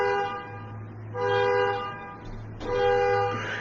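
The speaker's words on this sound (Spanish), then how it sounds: "que el carro del vecino se activó la alarma" A neighbor's parked car with its alarm triggered, blaring a loud, buzzy horn in repeated on-off bursts, each blast lasting about a second with short gaps between.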